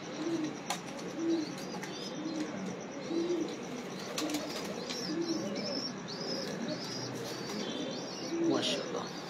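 Flock of pigeons coos in soft repeated bursts, with occasional wing flaps and chirps from a loft, fairly quiet and continuous with a faint voice in the background.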